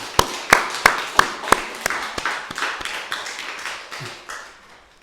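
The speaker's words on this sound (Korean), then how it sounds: "박수로 환영하겠습니다" Sharp claps ring out in a church service, a short run of loud, evenly spaced hits that thin and fade toward the end rather than a full crowd roar.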